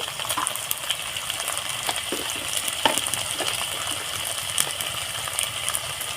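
Garlic paste and turmeric powder fry in a pan with a steady, moderately loud sizzle, broken by a few soft scrapes and clicks as the mixture is stirred.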